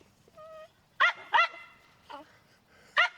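A dog whines briefly, then lets out four sharp, close barks at uneven intervals, impatient and loud, with no talking.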